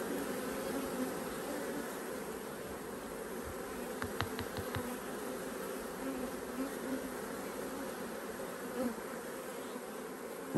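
Honey bees buzz steadily around a hive while honey is being extracted, a dense, continuous hum close by, with a brief cluster of sharper ticks partway through and no talking.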